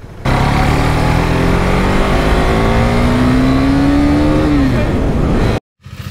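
A KTM RC 390 sports motorcycle being ridden on the road, its engine droning loud and close with a steady rise in pitch, then briefly cutting off near the end.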